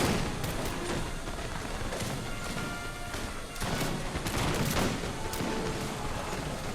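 Musket volleys in the video game Napoleon: Total War, a continuous dense crackle of massed gunfire with heavier booming swells, filling the whole stretch as an unbroken battle din.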